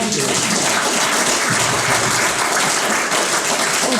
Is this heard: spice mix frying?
no